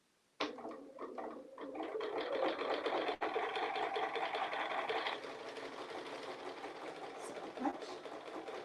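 A sewing machine stitches feathers on a quilt panel in a fast, steady run that starts abruptly, eases slightly after a few seconds and continues. Brief talk comes at the very start.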